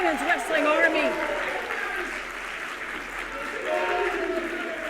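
A wrestling crowd at a women's main event in Chicago claps and cheers in a dense, sustained roar while an excited commentator talks over it.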